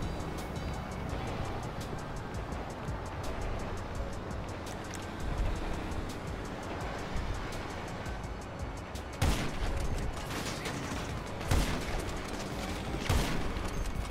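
Gunfire in an online shooter game: a dense run of rapid shots crackling throughout, with sharper, louder bursts near the end, set against constant game noise.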